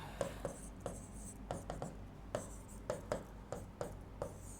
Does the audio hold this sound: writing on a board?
yes